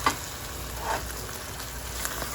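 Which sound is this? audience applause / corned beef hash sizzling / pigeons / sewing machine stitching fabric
corned beef hash sizzling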